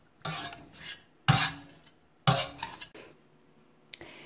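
Cooked butternut squash in a pot of Thai-style curry soup is broken up with a utensil in four separate scraping, mashing strokes, each scrape and clink loud and close, with short silences between.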